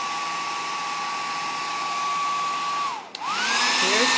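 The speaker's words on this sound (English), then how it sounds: "Here's my hair dryer. I'm going to put it on my low setting" A handheld hair dryer runs steadily on its low setting with a constant whooshing hum and whine, then briefly dips as the setting is switched and surges back louder and brighter.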